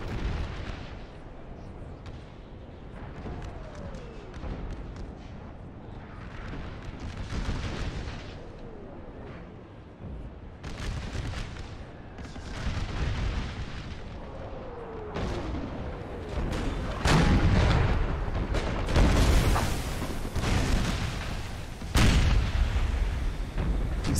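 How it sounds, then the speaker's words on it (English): Artillery cannon fire in the Napoleon Total War American Civil War mod at Gettysburg: a steady barrage of booming shots and rumbling blasts, some distant and some close and loud, building in intensity toward the end with no talk. "See where the artillery is still firing all of it"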